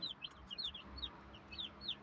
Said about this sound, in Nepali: कुखुरा चल्ला नि हान्दैछ